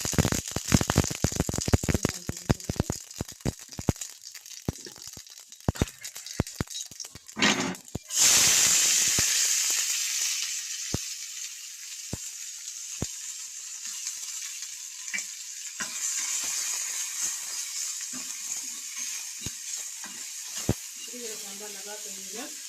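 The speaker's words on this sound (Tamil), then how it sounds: "கடுகு போடுங்க" Mustard seeds sizzling and popping in hot oil as tempering for sambar, rapid crackling pops at first, then a loud steady frying hiss that slowly fades, with stirring clinks near the end.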